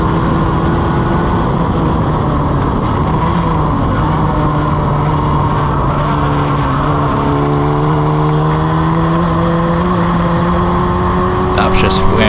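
A Formula Ford race car engine drones loudly and steadily, its pitch shifting and climbing through downshifts on an old-style H-pattern gearbox, with a voice talking over it.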